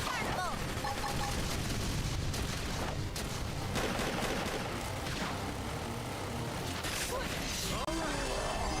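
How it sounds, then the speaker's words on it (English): Flame grenade blast in the Xenoblade Chronicles X game: a dense, loud wash of explosive booms and gunfire-like bursts running throughout, layered with busy battle effects and some voice. "Flame grenade."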